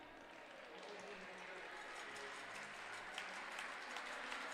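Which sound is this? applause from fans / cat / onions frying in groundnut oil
applause from fans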